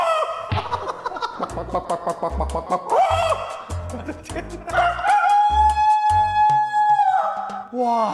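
A performer on a Chinese variety show stage imitates a hen's clucking with the voice, a run of sharp, pitched cackles and drawn-out calls, with laughter and chatter from others mixed in close by.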